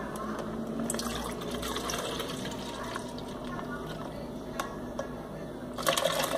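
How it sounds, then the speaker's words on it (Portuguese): About a cup of milk is poured for a banana smoothie, a steady soft liquid stream lasting several seconds with a brief clatter near the end. "A gente vai colocar o leite. É mais ou menos 1 copo de leite,"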